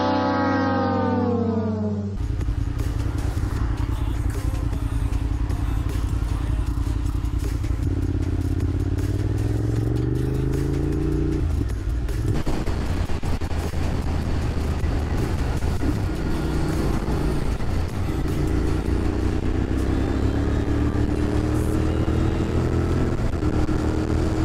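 Motorcycle engine on a road ride, revving up through rising pitch sweeps, settling into a steady drone, then climbing again, loud and close with heavy wind rush throughout.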